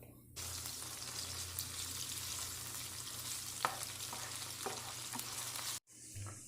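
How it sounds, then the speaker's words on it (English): Onions frying in oil and butter, a steady close sizzle with a few scattered stirring taps, starting and stopping abruptly. "we're going to use some of those onions from the montage earlier, if you were paying attention to that, and add those in"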